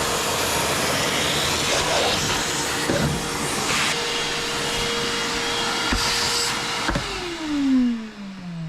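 A shop vac roars loud and close in a steady whine while cleaning in a Pond Prowler 10 boat, then winds down with a falling pitch at the end.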